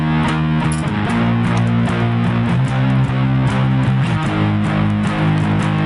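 An electric guitar strums distorted chords in a steady down-and-up rhythm, loud and close with sustained chord changes and no talking.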